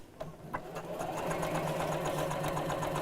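A sewing machine stitching steadily at a 2.4 setting while quilting, a continuous close mechanical whirr running through nearly the whole stretch after a few brief start-up knocks.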